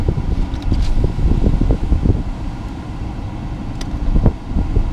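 The AC fan in a Nissan Leaf blows steadily inside the cabin, a loud, low, continuous whooshing hum, with faint mechanical clicks as the windows go down.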